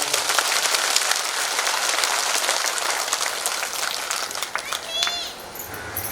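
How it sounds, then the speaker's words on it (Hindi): A crowd of villagers at a Holi festival gathering clapping their hands together: a dense, even patter of many claps that holds steady, then thins near the end as a voice briefly rises over it. "तो हाथ उठाकर ताली बजा दो।"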